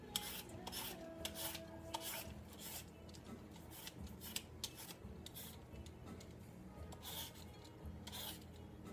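Green papaya for som tam being peeled into thin slices, a steady run of close, dry scraping and rasping strokes repeating in quick irregular rhythm with no talk.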